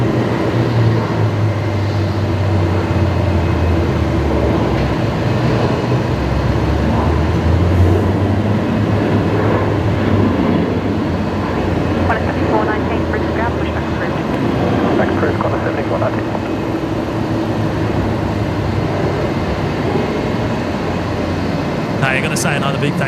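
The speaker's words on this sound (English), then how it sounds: "Another Qantas 73 departing." A Qantas Boeing 737 jet departs Brisbane Airport, its engines giving a loud, steady low roar heard from a distance that holds throughout, with a voice talking over part of it.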